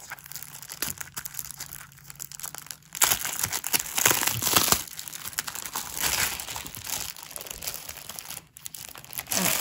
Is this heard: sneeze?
no